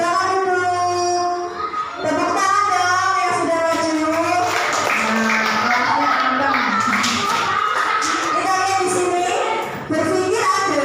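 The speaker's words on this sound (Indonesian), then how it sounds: "Tepuk tangan dong." A class of students listening to a lesson on computational thinking claps together in a lively burst. Loud, overlapping children's voices cheer and shout over the clapping for most of the stretch.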